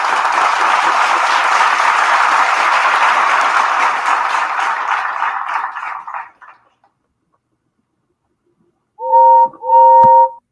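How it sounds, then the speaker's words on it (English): A toy or model train whistle sounds in two short, bright tonal blasts near the end, following a long stretch of broad noise that fades to near silence. "that is the only time in the series so far I have used a whistle"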